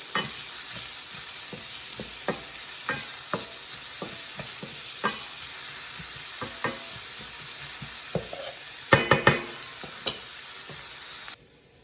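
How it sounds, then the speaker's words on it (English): Onions and garlic sauté in a pan with a steady, close sizzle, while a utensil stirs and scrapes in regular taps, with a brief flurry of clatter near the end. "we'll add in our onions and garlic to cook up for about 5 minutes"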